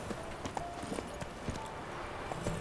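Horse hooves clip-clop in a steady walking rhythm, moderately close, from the game The Witcher III, with scattered faint ambient sounds and no talking.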